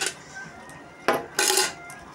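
Dishes and utensils clink and clatter while food is served, with a few light taps and then two louder, sharp metallic knocks close by, and no talking.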